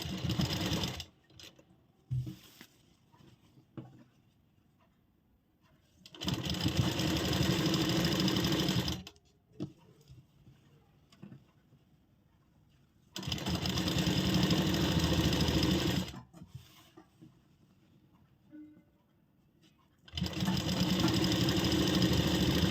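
A sewing machine stitching a kurti sleeve runs in three long bursts of several seconds each, a steady rapid whirring drone, separated by quiet pauses with faint handling of fabric.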